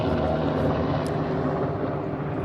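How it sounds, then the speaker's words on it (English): Military helicopter passing overhead, a steady loud rotor and engine drone filling the whole stretch without any talk, one of many flying over a garden during potato planting. "We've having military helicopters flying over all day today."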